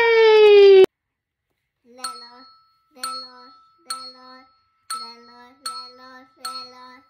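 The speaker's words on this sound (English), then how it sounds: "Red bell." A small red hand bell from a children's colored bell set rings six times in an even rhythm, each bright ding decaying quickly, close and clear after a brief opening tone.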